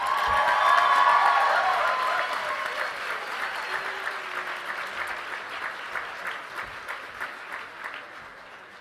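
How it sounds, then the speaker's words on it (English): The crowd at a 2022 commencement ceremony gives new PhD graduates a big round of applause with some cheering. It swells loudly at first, then settles into a thinner, rhythmic clapping that slowly fades. "Have one more round of applause for our new PhD graduates"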